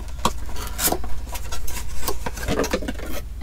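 A pestle rubbed and ground against the rough inner surface of a marble mortar from a restaurant supply set, giving a close, continuous gritty scraping with repeated strokes and a steady low hum underneath.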